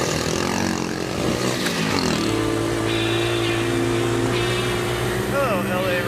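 Los Angeles rush hour traffic rumbles around riders on small mini bikes, with several engines droning and revving close by in a dense, layered mix and a rising whine near the end.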